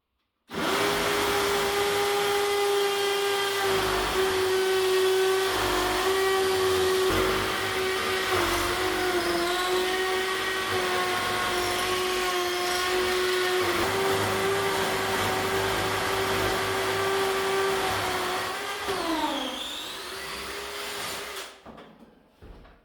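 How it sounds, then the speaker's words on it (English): A drill bores a hole through a farmhouse wall, producing a loud, sustained motor whine with a strong steady pitch that wavers slightly under load, then winds down and stops near the end. "I'm going to drill a hole through to see where I am on the outside."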